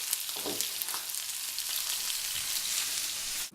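A steak sizzles after sauce is poured onto it, giving a dense, continuous hiss and crackle with a few brief pops, close and steady until it cuts off abruptly.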